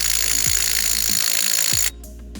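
A DeWalt power tool whines steadily against a Jeep axle bearing, loud and close, with a few brief pitch dips before cutting off abruptly near the end.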